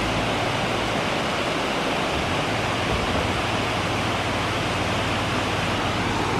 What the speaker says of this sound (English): This is probably my first real waterfall.